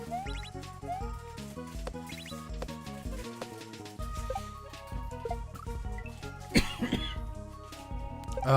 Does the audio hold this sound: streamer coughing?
yes